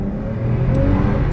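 MG ZT 190 V6 engine pulling hard under acceleration, a deep, steady roar heard from inside the car, rising in pitch and growing slightly louder throughout.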